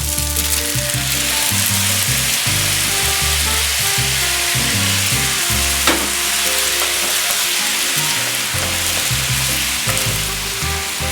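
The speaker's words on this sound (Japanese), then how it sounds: "よく絡めて焼きます。" Yakisoba noodles fry with homemade sauce in a hot pan, producing a loud, continuous close sizzle with frequent scraping and clatter as they are tossed and stirred.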